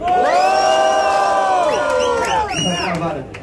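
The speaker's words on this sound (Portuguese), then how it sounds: "Quem achou o Cris superior faz barulho" A large crowd cheers and shouts loudly, sustained high-pitched whoops and screams rising and overlapping, close and energetic throughout.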